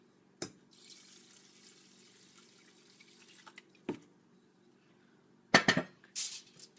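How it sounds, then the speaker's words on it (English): Water from a tap or measuring cup pours into a bowl of brown rice being prepared for pressure cooking, a soft steady trickle over a low hum, with brief clinks of the bowl before and after. "my rice, I need to add 1½ cups of water."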